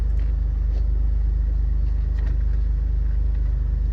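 A Jeep Wrangler on a road test after a clutch master and slave cylinder replacement, its engine and road noise forming a steady, loud, low rumble that continues throughout.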